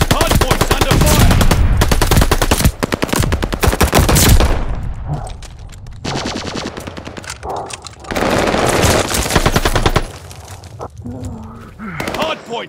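Rapid, loud machine-gun fire in the shooter game Call of Duty: Vanguard rattles at the hard point in long sustained bursts, then breaks into shorter volleys and single shots, with game voice callouts between the bursts.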